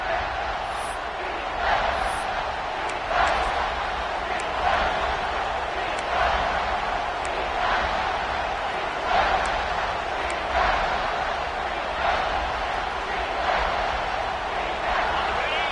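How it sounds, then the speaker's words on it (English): Football stadium crowd at an SEC game between Tennessee and Georgia roaring to fire up the defense before a red zone play, a sustained distant wall of noise swelling in rhythmic pulses. "This crowd is trying to inspire this defense to make a big red zone stop"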